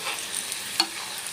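Garlic and curry leaves fry crisp in hot oil, giving a soft steady sizzle with a few faint stirring scrapes and one brief louder clink.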